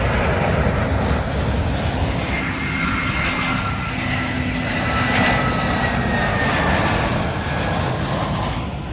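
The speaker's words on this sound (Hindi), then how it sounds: "2 बड़े खूबसूरत जहाज़ आ रहे हैं" Airliners coming in to land on Heathrow's southern runway 27L, a loud steady jet engine roar with a rising whine that dominates throughout, no talk over it.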